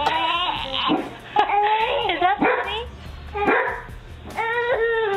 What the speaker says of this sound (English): every time the dog barks,